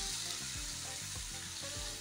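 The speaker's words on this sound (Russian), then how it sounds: "Вот так кипит моя вишня на медленном огне." Frozen cherries and sugar simmer over low heat in a frying pan, giving a steady close sizzle and bubbling with soft stirring noises and no talking.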